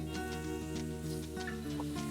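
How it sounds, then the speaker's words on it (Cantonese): Pork belly slices sizzle in a pan while being fried for a home-style chili pepper stir-fry, a steady close frying crackle with occasional spatula scrapes and no talking. "再煎佢。"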